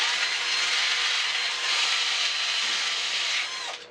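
Metal rods being sanded with coarse 60-grit abrasive make a steady, loud, broadband rasping rub that runs evenly for a few seconds before easing off at the end, with no voices.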